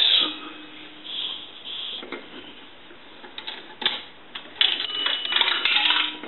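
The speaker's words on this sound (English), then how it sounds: "I want to get some dimes. And dimes are going to ring the bell twice." Dimes clink and rattle into a three-slot payphone coin mechanism, each ringing a small bell twice, with bell-like dings amid scattered metallic clatter, fairly close and without talk.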